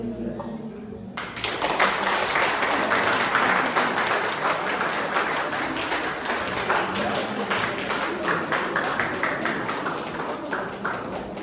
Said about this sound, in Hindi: इस शानदार प्रदर्शन के लिए जोरदार ताली और धन्यवाद।